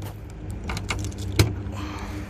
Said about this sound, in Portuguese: Deixa eu abrir o porta-mala aqui pra vocês.